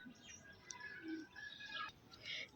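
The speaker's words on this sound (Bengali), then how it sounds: "আরেকটা শালিক পাখি" Myna calling in a home vegetable garden with eggplants and coriander in flower, several short chirps and warbling notes at moderate distance over a faint outdoor background.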